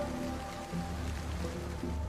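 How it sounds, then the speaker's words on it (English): Heavy monsoon rain in Vietnam falls steadily as a dense, even wash of patter on surfaces, continuous and close, with no voices over it. "June, July, and August are the months with the heaviest rain."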